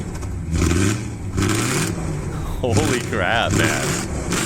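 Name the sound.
Audi V8 Quattro engine revving in a played video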